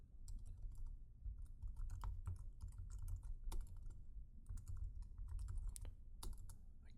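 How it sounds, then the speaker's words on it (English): Fast, uneven clatter of keys on a computer keyboard, close and steady, with short pauses between bursts of typing. "I can't type today."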